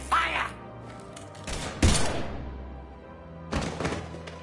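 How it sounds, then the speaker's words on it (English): Gunfire in the video game Mass Effect 3, a few loud sharp bursts of shots separated by pauses, close and punchy over a low rumbling backdrop. "Now open fire!"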